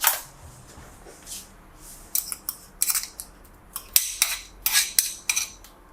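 A metal spoon scraping and tapping chicken paste off into a bowl, with a run of sharp, close clinks and scrapes in irregular bursts, clustering toward the end.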